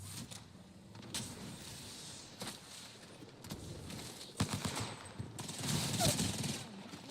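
Gunfire in the video game Apex Legends, scattered sharp shots and quick volleys at moderate distance, growing denser and louder toward the end amid game ambience.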